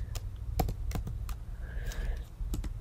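Close computer keyboard typing in scattered clicks and short bursts as web page code is entered, clear against a quiet room with no speech.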